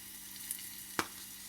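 Spices such as turmeric and cinnamon sizzling in a pan while being cooked, a steady soft frying hiss with a couple of sharp clinks as they are stirred.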